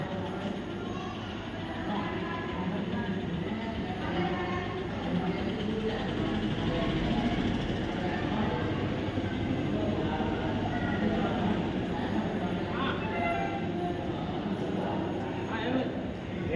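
Steady rumble of trains on the tracks at a busy railway station, continuous and fairly loud, with indistinct voices mixed into the din.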